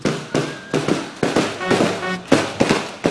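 Rapid bursts of firework explosions at an Islamic boarding school anniversary celebration, one after another in an uneven rhythm, loud and booming with crackling tails.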